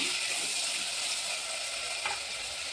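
Potatoes stirred into hot butter and cumin for pav bhaji give a steady, close sizzle with faint scraping of the spoon, running alone at an even level throughout.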